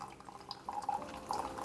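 Coffee drips through a Sibarist paper filter in a pour-over brewer, producing soft, faint, irregular drips and trickles that continue without talk.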